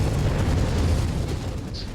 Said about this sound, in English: hoping we get an ammo explosion here is really what I'm looking for